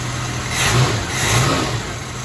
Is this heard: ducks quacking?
no